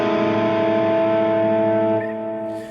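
An electric guitar run through effects sustains a ringing, slightly distorted chord from the melody line of the worship song "You Are Good", holding steady and then fading out near the end, with no speech.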